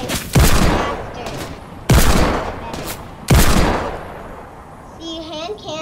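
Three loud hand cannon shots from the Fortnite video game ring out about 1.5 seconds apart, each a sharp blast with a decaying tail, followed by faint game effects.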